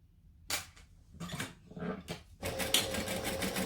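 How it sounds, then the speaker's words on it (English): A sewing machine back stitches on a bag in short bursts, with brief mechanical runs separated by pauses and then a longer, steadier run at the end, all close and fairly quiet. "I'm also back stitching because I want to lock this stitch in"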